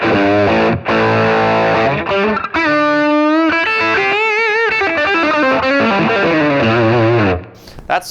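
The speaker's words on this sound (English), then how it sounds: "That's with the distortion not even all the way up" Electric guitar played through a distortion pedal with the gain not fully up, sustained chords and bends with a thick, compressed, driven tone, loud and close, ending in a brief quiet tail.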